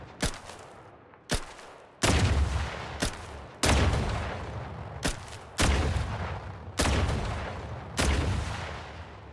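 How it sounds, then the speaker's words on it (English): Gunfire from shooting enemies in The Outer Worlds 2, a video game, in about eight sharp, booming shots spaced irregularly, each followed by a rumbling decay, with no voices. "It's kind of fun shooting them."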